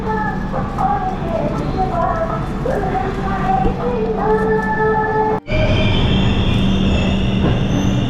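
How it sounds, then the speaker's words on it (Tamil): The Rapti Sagar Express departs a station, rumbling with metallic wheel squeals and rail clatter close by, a brief break midway, then the heavy rolling noise continues. "ட்ரெயின் இப்போ வந்து கிளம்பிருச்சுங்க"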